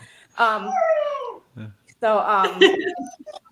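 A dog whines and yelps excitedly in two drawn-out, rising and falling bursts, close and fairly loud, with brief pauses between.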